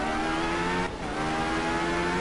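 A rally car at full throttle in art of rally, its engine revving hard in a steady, loud, close drone with a brief dip around a gear change before pulling again.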